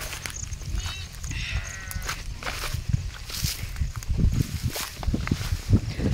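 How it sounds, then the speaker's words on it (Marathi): A flock of sheep rests and grazes across a farm field, with scattered bleats rising over close, continuous rustling and shuffling of hooves and bodies. "तर मेंढ्या सगळीकडे बसलेले मस्त चरताय"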